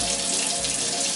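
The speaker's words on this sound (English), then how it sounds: "So let me add the water." Water runs steadily from a tap into a bowl of chia seed pancake batter, a continuous close hiss and trickle with no speech.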